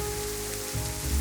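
Rain falls steadily at night, a soft continuous patter over a low background hum, with no voices.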